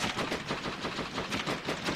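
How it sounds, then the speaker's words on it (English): Enemy gunfire in the video game Metro 2033, a steady stream of rapid shots that keeps going for the whole stretch, sounding fairly close and loud with no talking over it. "Pretty sure that they're firing at me."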